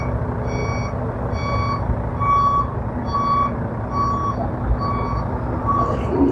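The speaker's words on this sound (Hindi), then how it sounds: "देखिए ये जा रही है ट्रक जो है, छोटा सा जो ट्रक है ये जा रही है" At a Ganga bridge construction site between Sahibganj and Manihari, a small truck emits steady reversing beeps, about one every 0.9 seconds, clear and moderately near over a constant low engine rumble, with no talking.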